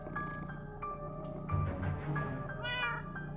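A cat meowing repeatedly in the video game Minecraft Story Mode, several sustained, wailing meows in close succession over game music, loud and up front.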